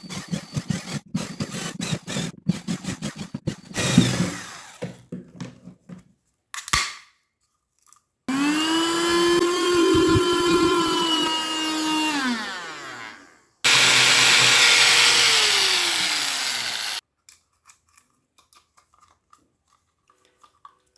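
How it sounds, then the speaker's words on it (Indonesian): A 12V battery-powered electric drill cuts a groove into a plastic pipe for a homemade sprayer, two sustained loud whining bursts with rising and falling pitch, separated by a short pause, after earlier scattered clicks and handling noises. "Untuk bagian yang memanjang saya menggunakan bor sebagai penanda atau alur untuk pemotongan pipanya."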